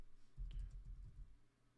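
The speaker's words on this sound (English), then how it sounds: "Why is my keyboard not working?" A computer keyboard gives a short burst of soft, muffled typing and clicking at a low level, with no voices.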